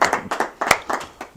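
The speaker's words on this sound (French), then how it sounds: "Pour notre une année, acclamez très fort." A church show audience in Ottawa claps in quick, uneven bursts, loud and close, a brief patch of applause without clear cheering or speech.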